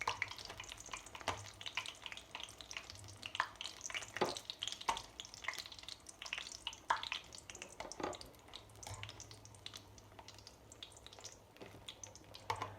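Rollitos frying in hot oil in a pan, a soft steady crackling sizzle with scattered pops and bubbling, close but fairly quiet, with no talk.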